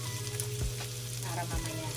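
Garlic sizzling in a hot pan with a steady low crackle and hiss, faint and close, with a couple of soft bumps as it is stirred.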